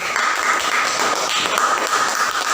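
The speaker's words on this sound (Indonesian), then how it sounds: "Ayo untuk tepuk tangan untuk nomor 1," Classroom applause for participants numbers 1, 2 and 3 at a teaching practice session: a steady, dense wash of many hands clapping close by, continuous for the whole stretch with no talk.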